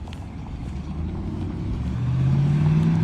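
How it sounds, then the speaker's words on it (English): A car pulls up on a street beside a white truck, its engine a low, steady rumble that swells louder and rises slightly in pitch toward the end, heard close and alone. "This car just pulled up in front of me."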